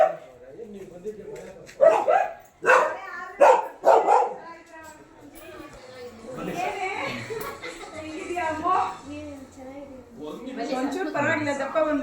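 A dog barks in a quick run of sharp, fairly close yaps early on at a friend's home, and people keep chatting around it throughout.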